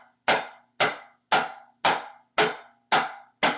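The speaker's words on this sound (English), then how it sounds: "A very basic scrape pattern I teach is just down the drums." Marching tenor drums played in a basic scrape pattern down the drums: seven crisp, evenly spaced strikes, each ringing briefly before the next, close and clear with no talking.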